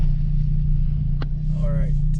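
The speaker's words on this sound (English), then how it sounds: "I'm about to pull up to this spot. About to bust a U." A car pulling up and swinging through a U-turn, its steady low engine hum and road rumble close and continuous throughout, with brief faint sounds layered over it and a voice speaking near the end.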